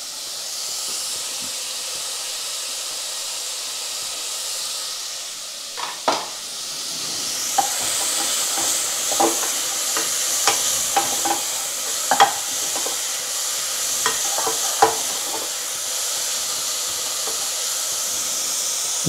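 Garlic frying in hot oil in a pan for chicken curry, a steady bright sizzle rising partway through, with a series of sharp scrapes and clicks as it is stirred, close and alone.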